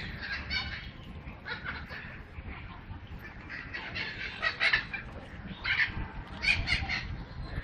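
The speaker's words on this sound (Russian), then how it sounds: "Городской зоопарк, утки." Ducks at a city zoo, fed and splashing near a small fountain, give repeated quacking calls in overlapping bursts, moderately close and fairly loud against steady outdoor background noise, with no talk.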